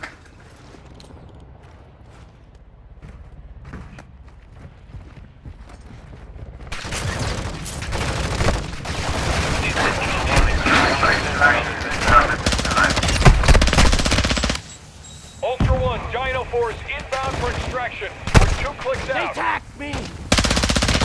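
Video game combat with sustained machine-gun fire and rapid gunshot bursts, rising from quiet to loud, continuous volleys, with radio-style voice callouts mixed in.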